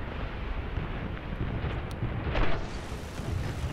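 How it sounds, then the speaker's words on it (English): Bombs dropped by a Ju87D Stuka in War Thunder burst in a broad, rumbling roar over constant engine and wind noise, with one heavier blast swelling near the end. "A bomb there, another there, another there, and get the hell out of there."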